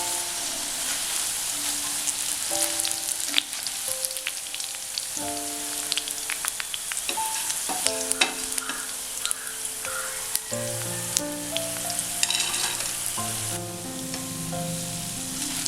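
Tender jackfruit pakoda deep-frying in hot oil, a steady loud sizzle and crackle running throughout with some sharp clinks and taps of a utensil against the pan.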